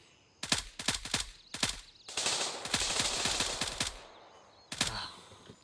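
Gunfire in Gray Zone Warfare during a FOB assault: sharp, loud automatic bursts, a few quick shots, then a longer sustained volley followed by a lone report after a short pause.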